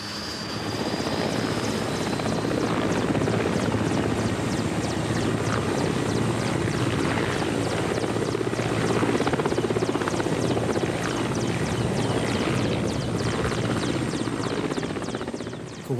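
Old military helicopter in flight, heard from inside the cabin as a loud, steady rotor and turbine drone with rhythmic blade thumping that holds without a break throughout.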